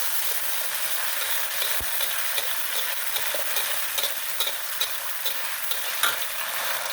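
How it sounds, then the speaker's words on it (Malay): Continuous loud sizzling and crackling of ground chili paste frying in hot oil for mee goreng, with occasional stirring scrapes and spatters, close up. "kita tumis cili kisar ni betal biar dia masuk dulu"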